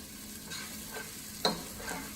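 Eggplant rolatini ingredients are stirred in a pan, giving soft scraping strokes and one sharper clink over a faint sizzle, close and quiet with no talk.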